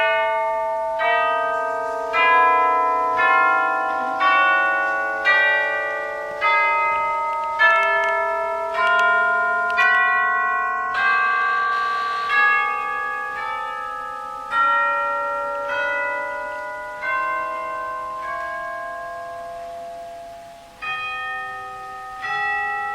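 Chimes on an organ ring out a slow melody, each struck note sounding clear and bell-like before decaying, repeated evenly for about twenty seconds with no talking.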